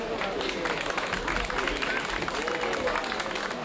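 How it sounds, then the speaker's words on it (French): At an abrivado in Vauvert, a crowd applauds the Rambier-Vélas manade with dense, continuous clapping mixed with hubbub and raised voices, steady and fairly loud throughout. "la voici cette manade, on l'applaudit."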